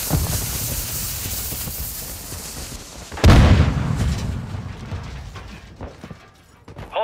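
Semtex grenade going off in Call of Duty Modern Warfare 2 Team Deathmatch, a sudden loud close blast over ongoing battle noise, followed by a decaying rumble and scattered faint shots.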